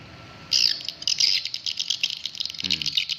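Rapid high-pitched chirping and twittering from a played swiftlet lure call recording, steady and fairly loud, with a low rumbling click sound near the end.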